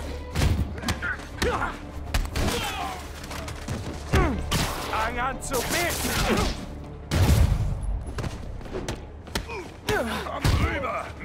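Gunfire bursts and heavy impacts in the video game Marvel's Spider-Man Remastered, loud and repeated through a chaotic fight scene, with shouted voices over the shots.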